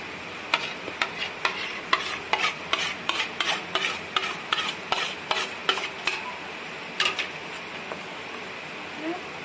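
Fish being mixed by hand in a bowl with chopped onion, ginger-garlic paste and a little water for gold fish pakora, heard as close, rhythmic wet squishing and scraping strokes repeating steadily.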